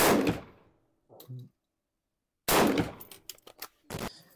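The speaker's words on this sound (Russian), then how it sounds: "Вот я сделал два выстрела магнумом" Two loud magnum shotgun blasts fired at a duck at about 40 metres, each a sharp crack with a rolling tail, separated by a short quiet gap with a faint thump between them.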